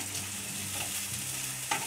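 Fried rice sizzles and crackles steadily in a pan while a utensil scrapes and stirs through it, with a sharper clink near the end.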